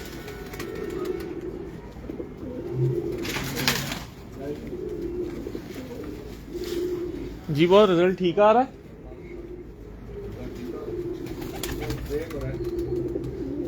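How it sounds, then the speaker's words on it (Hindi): Pigeons coo on a rooftop in Multan, two or three rising-and-falling calls standing out clearly midway, with softer cooing under ongoing conversation between people throughout. "लो सारे और कबूतर दिखाओ।"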